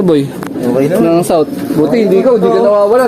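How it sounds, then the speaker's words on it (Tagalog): Pigeons cooing steadily and close by at a loft, the soft repeated coos running under people chatting throughout. "Ayan yung mga kalapati dyan."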